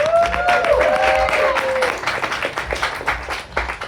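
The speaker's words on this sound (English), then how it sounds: "Clap it up for yourselves" A comedy club audience claps for itself at a stand-up show, applause swelling briefly with a few whoops and cheers, then thinning into scattered claps and murmurs.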